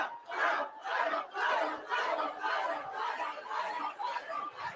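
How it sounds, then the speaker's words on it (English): A large crowd at a Donald Trump appearance cheers and shouts in rolling, pulsing waves of voices, sustained and fairly distant. "That's a nice crowd"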